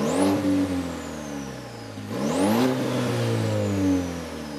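A GMC Canyon AT4X pickup truck engine revs twice, each time climbing quickly in pitch with a slightly coarse tone and then settling back, heard up close with no talking.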